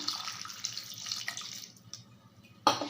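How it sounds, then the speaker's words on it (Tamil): Water pours into a pan of dates for date halwa, a short splashing trickle that fades out after a second or two, followed by a single sharp clink. "இப்போ இது மூழ்கிற அளவுக்கு நான் தண்ணி ஊற்றிக்க போகிறேன்"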